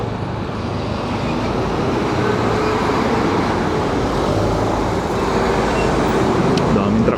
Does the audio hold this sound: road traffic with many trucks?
yes